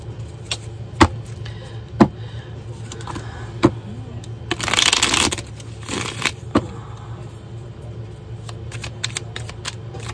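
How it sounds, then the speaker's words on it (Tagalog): Tarot cards are shuffled close by in a brief riffling burst, surrounded by scattered taps and clicks of card handling in a quiet room. "balasahin muna po natin to"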